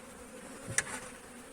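Faint, steady buzzing of bees in a quiet setting, with one brief louder buzz as an insect passes close.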